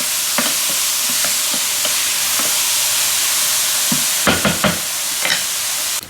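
Mushrooms sauté in a hot pan with a steady, loud sizzle, while a utensil stirs them in a few scattered scrapes and a quick cluster of clacks near the end.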